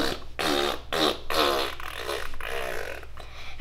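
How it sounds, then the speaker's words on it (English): A string of about six loud, buzzy farts from a group of students in a classroom, one after another with brief gaps, over a low steady drone. "all of you students are farting in"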